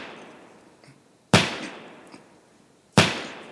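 Two sharp, loud bangs like gunshot sound effects ring out about a second and a half apart, each with a short echoing decay over a quiet background and no speech.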